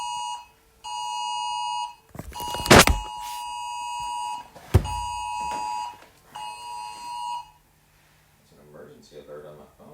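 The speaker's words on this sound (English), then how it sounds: "Alert on my phone." A phone emergency alert sounds in a room during a math lesson, loud repeated electronic tone bursts in a steady on-off pattern, with sharp clatters partway through and people talking quietly near the end.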